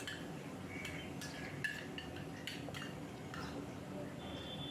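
A spoon scraping and clinking in a pan while ground poppy seed paste and green chilli are stirred into bottle gourd greens, light irregular taps over a low background, with a voice speaking.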